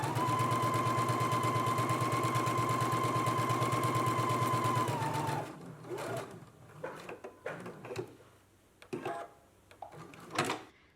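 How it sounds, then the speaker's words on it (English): A domestic sewing machine stay stitches a bodice at a 1/2 inch seam allowance, running in a steady rapid whir for about five seconds before stopping, followed by softer handling clicks and rustles of fabric. "we're going to go ahead and do some stay stitching, a 1/2 inch seam allowance right here between the notches that we transferred"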